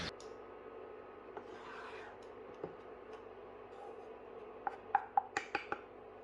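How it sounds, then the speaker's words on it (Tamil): Gram flour is stirred and roasted in a pan for ghee Mysore pak, with soft continuous scraping and rubbing, then a quick run of sharp utensil clicks near the end, all quiet and close. "எல்லா பக்கமும் நல்லா சூடு படுற மாதிரி நல்லா இப்படி தேய்ச்சி விட்டு வறுத்து எடுத்துக்கணும்."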